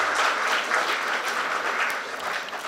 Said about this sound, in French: merci de les applaudir très fort